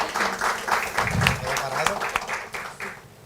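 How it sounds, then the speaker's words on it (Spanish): Applause from an audience at a corporate innovation event, steady clapping from many hands with a voice speaking over it. "le hacemos un aplauso"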